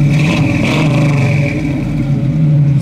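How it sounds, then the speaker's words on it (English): A 1968 Camaro RS/SS restomod with dual exhaust revs loudly and up close, its deep engine note rising and falling through a couple of throttle blips over a steady rumble. "Dalton, would you go ahead and just rev it up a couple times for me?"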